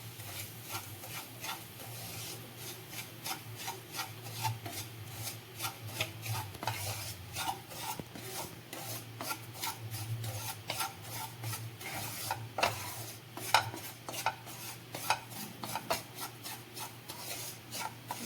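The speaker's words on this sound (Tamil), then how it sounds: "அதே நெய்யில் ரவையை நல்லா வறுத்துக்குவோம்" Semolina is roasted in ghee while a spoon repeatedly scrapes and rubs the pan in an irregular rhythm, close and fairly quiet over a low steady hum, no talk.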